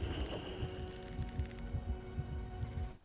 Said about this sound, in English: He can hear your heartbeat.